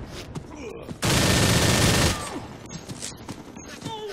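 A minigun in the video game R.I.P.D. The Game lets out a dense, loud, continuous roar of rapid fire for about a second, with game sounds around it.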